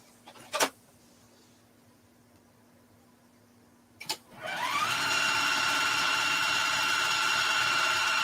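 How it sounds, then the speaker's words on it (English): Two sharp clicks break the near silence before a sewing machine quilting a tote bag starts up and runs at a steady, close mechanical whir with no talking. "Quilted and done"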